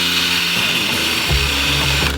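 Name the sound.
power drill drilling a hole through a mountainboard deck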